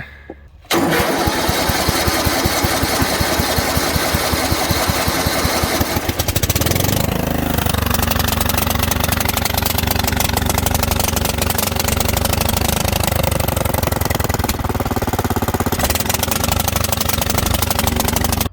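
A small Dynamark racing riding mower engine cranks with rapid rhythmic chugging, catches, then runs loud and steady nearby, revving slightly before settling into a continuous drone.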